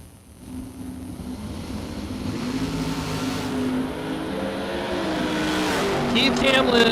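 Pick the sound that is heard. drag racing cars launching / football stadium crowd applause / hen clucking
drag racing cars launching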